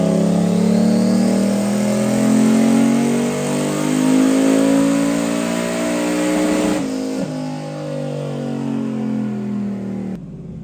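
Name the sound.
Mazda RX-7 engine revving against rev limiter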